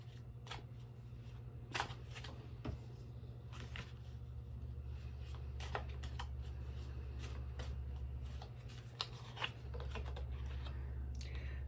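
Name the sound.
tarot cards being shuffled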